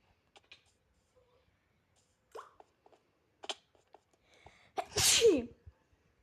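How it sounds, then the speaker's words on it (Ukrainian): A single loud sneeze bursts out near the close, alone after a few faint clicks and small sounds in an otherwise quiet room. "Я чихнув."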